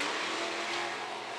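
A modified race car engine drones at a distance on a dirt-track back straightaway, a brief, fairly faint whine that eases slightly as the car slows.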